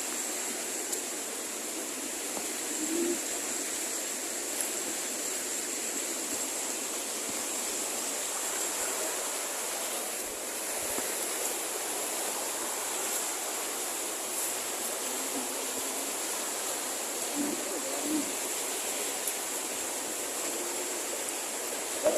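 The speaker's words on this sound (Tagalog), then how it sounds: "lakas ng alon" Strong waves churn in a continuous broad roar that stays fairly even in loudness for the whole stretch, with a few slightly louder surges and no voices.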